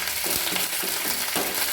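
Sharp, rapid crackling and popping of mustard seeds spluttering in hot oil, close by and continuous, with no voices.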